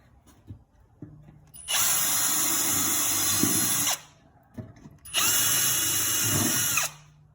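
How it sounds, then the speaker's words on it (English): A power drill whirs in two long bursts, each about two seconds, drilling holes to install footwells on a Can-Am Outlander Max, with quieter handling noises between them. "we're going to drill the holes here"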